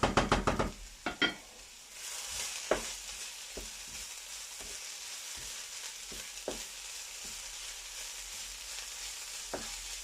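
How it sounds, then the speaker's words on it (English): Dal curry with coconut milk sizzles softly in a pan, a faint steady frying hiss broken by a few scattered stirring knocks and clinks near the start. "So let's wait until the dal is cooking."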